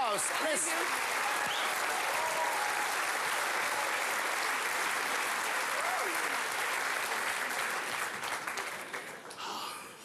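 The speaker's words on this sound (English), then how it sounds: "A round of applause." Sustained applause from an audience, a dense wash of clapping that holds steady for several seconds before tapering off at the end.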